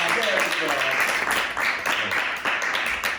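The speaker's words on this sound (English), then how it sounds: "a big round of applause for all of you" An audience applauds in a dense, continuous round of clapping that fills the room, with voices heard over it.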